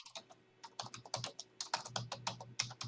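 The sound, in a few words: someone typing on a computer keyboard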